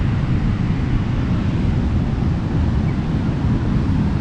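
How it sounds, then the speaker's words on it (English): Strong wind buffets the microphone on Bondi Beach in Sydney, a loud, steady low roar that fills the whole stretch without pause, with no other sounds standing out. "I don't even know if you can hear me because of the wind"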